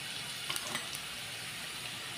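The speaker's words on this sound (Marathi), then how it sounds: "आणि आता आपण जिरे घालूया थोडे।" Cumin seeds sizzle softly in hot oil with asafoetida during a tempering, a faint steady crackle with a few light stirring clicks and a sharp tap at the end, no voices.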